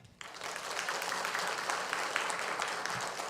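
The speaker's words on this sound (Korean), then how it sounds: "그런 마음으로 크게 우리 박수하겠습니다." A church congregation at a New Year's Eve to New Year's Day worship service claps together in a sudden, sustained burst. The applause is moderately soft and even throughout the few seconds.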